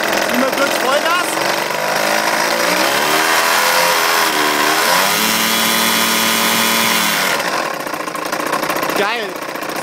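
A DLE 55 gas engine fitted with a gearbox revving hard at full throttle, a loud raspy close-up roar with pitch sweeping up and down between bursts, with people talking over it.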